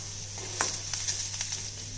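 Steady sesame oil sizzle with a few sharp crackles and pops as mustard seeds and urad dal splutter in a hot pan, continuous and close with no talking.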